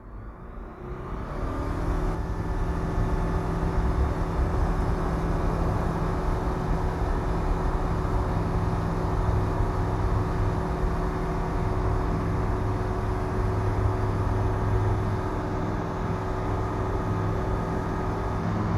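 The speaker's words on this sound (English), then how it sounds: "So you can definitely still hear the engine" Light aircraft engine droning inside the cockpit while taxiing for runway 29, heard through a noise-cancelling aviation headset, a steady low hum with constant tonal whine that swells up as power comes in and holds loud throughout.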